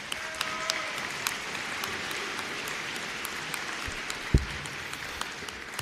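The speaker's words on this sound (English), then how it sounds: "Round of applause." Applause from a college commencement audience at Marietta College's 185th ceremony, a steady dense clapping spread through the hall, moderately loud, with one sharper thump near the end.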